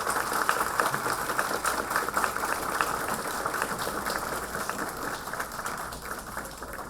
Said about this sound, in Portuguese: Mais uma vez a salva de palmas aos nossos anfitriões